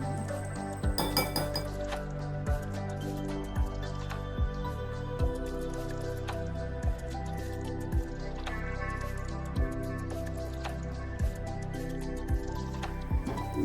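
A spoon mixes Eno into dhokla batter in a bowl, giving regular light clinks against the side roughly every second, set against steady background music.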